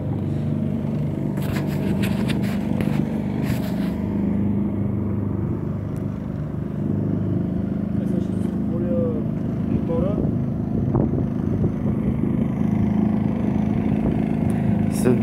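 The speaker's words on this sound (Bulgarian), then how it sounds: "След малко мотора ще спре да работи" A sailboat's inboard engine chugs steadily as the boat leaves the bay, a continuous low drone with occasional clanks and scrapes, and people talk over it.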